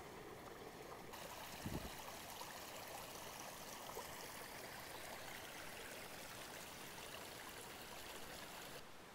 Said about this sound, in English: Somewhere down here, there's a stream.